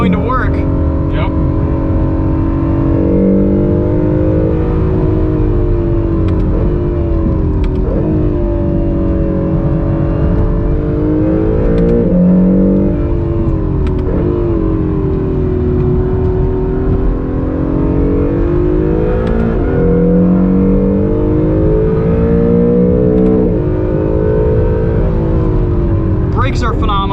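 A 2020 Acura NSX engine drones loud and steady on a race track, its pitch climbing and falling through repeated acceleration and gear changes for nearly half a minute, with people talking over it.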